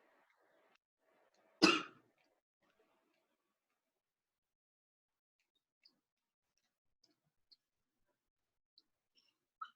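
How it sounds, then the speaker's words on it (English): A single sharp cough breaks near-silence in a quiet room during an algebra lesson, followed only by faint scattered clicks. "I was coughing in the middle of it"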